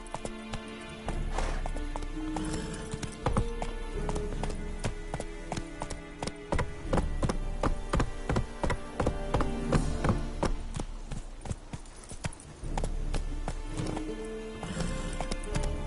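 Horse hooves gallop in The Witcher video game, a fast continuous clip-clop of a ridden horse with game music or ambience beneath, slowing near the end.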